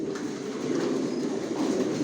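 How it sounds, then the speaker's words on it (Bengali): Racing pigeons of the Johnson line, master and running pairs, coo softly and continuously in their loft amid a steady low murmur, with no talking. "এখানে যে কবুতরগুলো দেখাচ্ছে এগুলো মাস্টার পেয়ার, রানিং পেয়ার"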